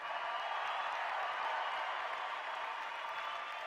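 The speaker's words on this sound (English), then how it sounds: "I want this place to clap it up for this conference to have an app." Audience applause at a conference, a dense, steady wash of clapping from a crowd that stays evenly loud throughout, with no talk over it.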